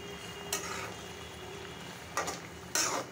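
Fish frying in a pan with a low, steady sizzle, broken by three short bursts of stirring or utensil scraping against the pan, close and fairly quiet.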